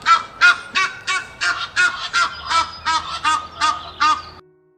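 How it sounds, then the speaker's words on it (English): An Egyptian goose honks in a steady series of about eleven harsh, evenly spaced calls, loud and close, ending abruptly. "Next up is the Egyptian goose."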